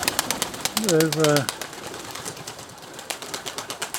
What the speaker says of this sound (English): there's a few of my birds again.